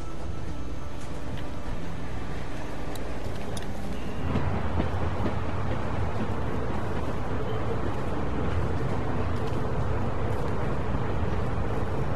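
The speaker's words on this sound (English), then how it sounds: "We need to stop this train." Steady rumbling roll of a train along the tracks in the video game The Walking Dead, a continuous broadband clatter that fills the whole stretch and swells slightly partway through, with no clear speech over it.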